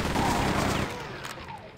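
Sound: chaingun firing in the video game Quake 2

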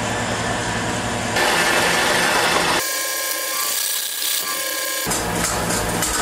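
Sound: electric mixer whipping egg whites at high speed

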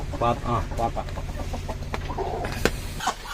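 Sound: native rooster and chickens

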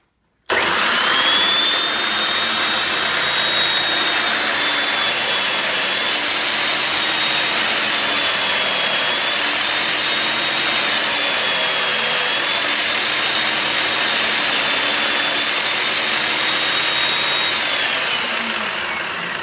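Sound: sanding a bevel on a wooden violin organ pipe

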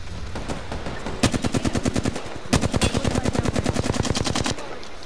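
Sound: gunfire in a video game shooter

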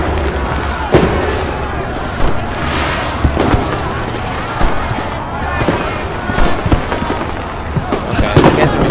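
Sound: fireworks exploding in a video game

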